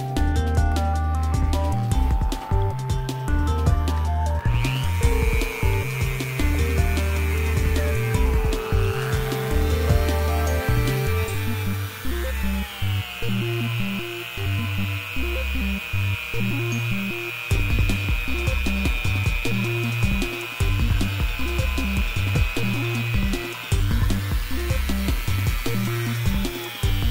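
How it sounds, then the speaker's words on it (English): A rotary tool with polishing compound buffs the shaft of a squeaking Dayton 6K857 3/4 hp blower motor. It gives a continuous close-up high whine that shifts in pitch, over a pulsing, rhythmic low rumble that lasts throughout. "We'll clean the shaft using a rotary tool and some polishing compound."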